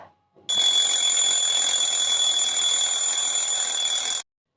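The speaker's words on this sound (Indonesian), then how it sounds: "Alarmmu itu loh udah nyala tau dari tadi." An electronic alarm clock rings continuously, a loud, shrill, steady beeping that starts abruptly and cuts off after about four seconds.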